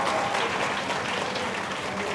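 An audience claps loudly and steadily at the inauguration of the Jamia Hamdard vocational and skill centre, a dense, continuous applause that fills the whole moment.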